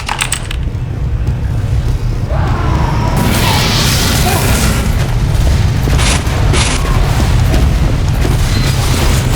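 Mini sentry gun being destroyed in Team Fortress 2 on the 2fort map, a loud booming blast amid ongoing gunfire and metallic clatter, dense and continuous.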